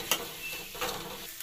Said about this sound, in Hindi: अब हम इसमें डालते हैं सोयाबीन, और सोयाबीन को अच्छी तरह चलाते हैं।